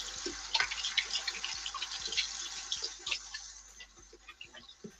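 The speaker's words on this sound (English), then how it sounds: "I'm washing my hands" Hands being washed under a running tap, with water splashing and dripping at an irregular pace, close by and moderately loud, with no talking.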